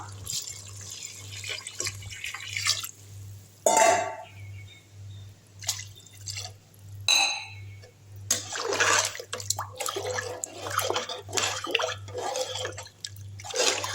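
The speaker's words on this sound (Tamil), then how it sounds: "இப்போ அஞ்சரை டம்ளர் தண்ணி ஊற்றிடலாம்" Water splashes and trickles into a pot in several uneven pours for chicken biryani, close by, over a steady low hum.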